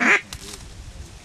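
Quacking from a duck drake during a waterfowl hunt in eastern Washington, one loud burst at the very start followed by faint outdoor rustle and distant sounds.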